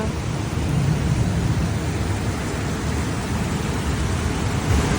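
Steady heavy rain pours down in a dense, even hiss with low rumbling swells that may be distant thunder, continuous throughout with no voices.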